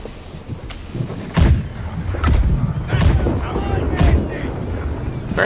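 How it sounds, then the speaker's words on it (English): Ship cannons fire in the naval battle game Blackwake, a series of deep booming shots at irregular intervals, several of them loud and close, under a steady background rumble while players talk. "To fire all the guns."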